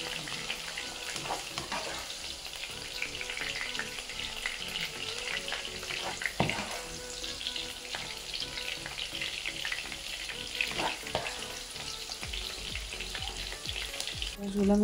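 Okra (bhendi) fries in oil in a pan with a steady close sizzle, punctuated by occasional stirring scrapes and knocks, continuing unbroken and without speech.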